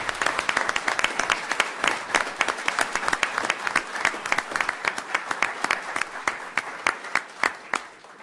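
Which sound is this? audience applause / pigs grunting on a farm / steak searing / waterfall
audience applause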